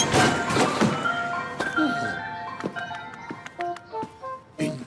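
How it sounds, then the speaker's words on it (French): An ice cream truck's chiming tune plays up close, joined by a few sharp knocks and bangs near the end as the truck drives over a pothole. "le camion du marchand de glace va rouler sur un nid de poule"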